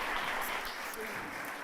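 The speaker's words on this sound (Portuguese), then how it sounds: "Vamos aplaudir Jesus?" A congregation at a Sunday celebration church service applauds briefly, a dense, even patter of many hands with a murmur of voices underneath.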